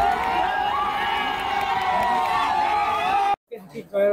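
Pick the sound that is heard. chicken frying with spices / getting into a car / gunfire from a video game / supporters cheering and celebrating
supporters cheering and celebrating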